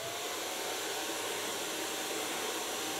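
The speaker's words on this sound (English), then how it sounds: "And of course a blow dryer." Blow dryer running during a haircut, a continuous loud airy hiss and whir held steady from start to finish with no voices.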